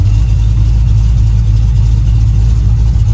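A 1936 coupe's engine, just fitted with a new ignition switch, runs loud and close with a steady low rumble, given a little gas while parked, with no talking.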